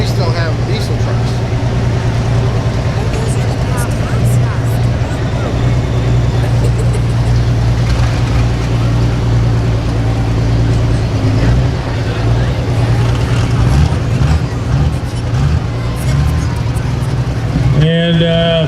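A diesel truck engine drones loud and steady with a deep rumble at a farm tractor pull, revving and surging slightly throughout, with an announcer talking over the din and a sharp burst near the end.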